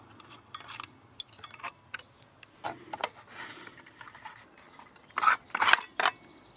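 Wrench loosening the blade bolt on a FERM CSM1047 20V cordless circular saw with the spindle lock pressed: scattered scraping and metallic clicks, ending in two louder rasping bursts near the close.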